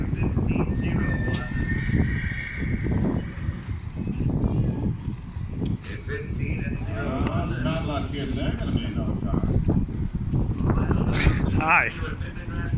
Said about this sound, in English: A lot of horses.